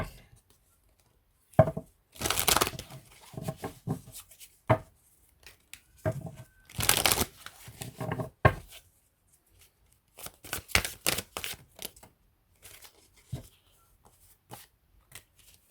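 Tarot cards shuffled back into a deck, heard as several separate bursts of quick riffling and flicking close up, with quiet pauses between them.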